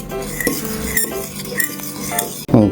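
Cajun-seasoned imitation crab scrambled eggs stirred in a pan, with a utensil scraping and clinking against the cookware in short, irregular strokes, a light sizzle underneath and a louder clatter near the end.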